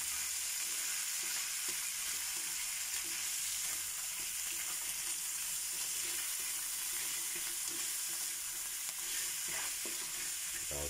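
Crab with petchay frying in a pan, a steady broadband sizzle filling the whole stretch with faint stirring scrapes, close and continuous, no voices.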